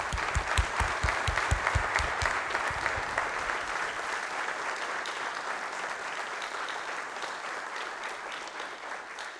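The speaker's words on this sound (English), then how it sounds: "please join me as we recognize these heroes with a round of applause" A round of applause for armed forces veterans and first responders at a 2022 seniors awards ceremony: dense, sustained clapping from a large crowd, strongest at the start and holding steady throughout.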